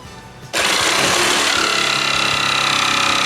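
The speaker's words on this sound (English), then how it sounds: "And then I just take the jigsaw and I start cutting it out." A jigsaw cuts out a wooden helix layout piece for a model railway, starting abruptly after half a second of quiet and then holding a loud, steady buzzing drone with rapid reciprocating chatter, close and alone.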